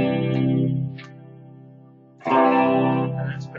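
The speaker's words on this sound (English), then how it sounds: "The normal pickup sounds quite warm, actually." Crafter Convoy DX electric guitar played through its normal pickup with chorus-style effects: a warm sustained chord rings out, fades, then a second strummed chord sounds loudly.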